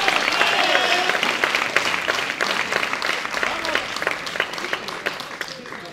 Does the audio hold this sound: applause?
yes